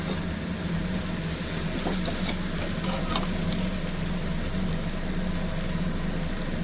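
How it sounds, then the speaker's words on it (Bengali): Chow mein with vegetables and egg stir-fries in a pan, giving a continuous, fairly loud sizzle with occasional stirring scrapes, close by and with no talking. "এই যে সবজি, ডিম সব একসঙ্গে ভালো করে ভেজে নিয়েছি, এবারে দিয়ে দেবো চাউমিনটা।"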